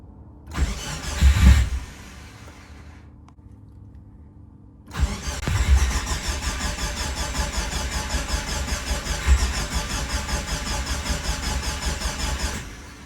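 A Subaru Forester STI, newly fitted with an ECU, immobilizer and ignition, cranks loudly for about a second, falls quiet, then fires and settles into a steady, close idle that runs to the end.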